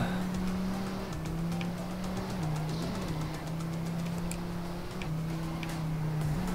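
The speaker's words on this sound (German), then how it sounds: "Der Drift, oh, perfekt, würde ich sagen." Race car in the video game ManiaPlanet drifting, with a steady, droning engine tone whose pitch dips and recovers through the slides, plus faint tyre ticks, continuous and fairly quiet with no talk.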